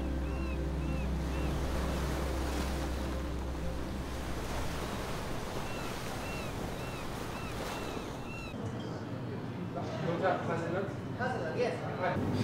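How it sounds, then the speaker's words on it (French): Sea water surging and washing around rocks on the coast, a steady roar of surf with wind rumble throughout, and a brighter splash toward the end. "admirer les mouvements de l'eau autour des rochers"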